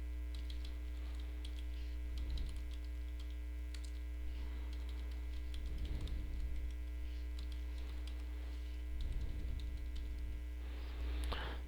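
Password being typed on a computer keyboard, a few soft bursts of key clicks spread across the stretch over a steady electrical mains hum, faint and close.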